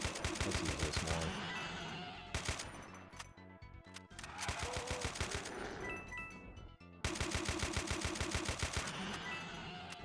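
Rifle fire from Doom: The Golden Souls 2 comes in rapid, loud automatic bursts, three long strings of shots separated by brief pauses, close and dominant.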